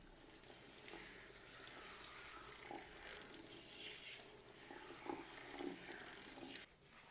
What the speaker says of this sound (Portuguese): a gente vai lavar o cabelo dele, secar